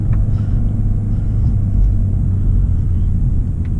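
A 2024 VW Golf GTI MK8 engine pulls steadily in its long first gear, a continuous loud low rumble and drone from inside the car, with no speech.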